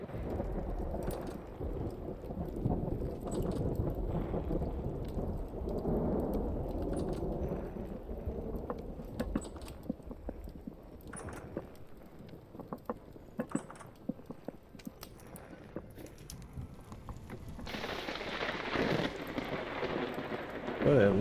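Thunder from nearby lightning rolls through a steady rainstorm, with heavy rain drumming on surfaces and deep rumbles swelling and fading over the full stretch, loud and close, with no talk.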